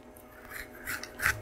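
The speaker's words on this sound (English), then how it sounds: "And I am just cutting until it is all just pineapple." A knife cuts the skin off a pineapple, a few short, quiet scraping rasps close by in near silence.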